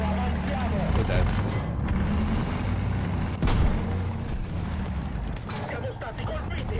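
Tank cannon shots in War Thunder, a game battle with an Italian P40 tank: a couple of sharp booming reports, the loudest around mid-clip, over a constant rumbling engine bed, with speech mixed in.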